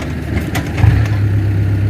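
A dump truck's diesel engine, being used to lift a wheel onto timber with help from an excavator push, idles and then revs up into a steady low drone.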